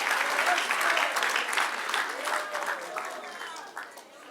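Lively clapping from a church congregation during a pastor's sermon, a dense burst of applause mixed with crowd voices that gradually thins out and softens.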